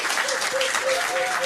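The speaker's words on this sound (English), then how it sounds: "Give them a round of applause." Steady applause from a pub quiz crowd rewarding the fastest team, a dense continuous clatter of many hands throughout, with a faint tonal hum running underneath.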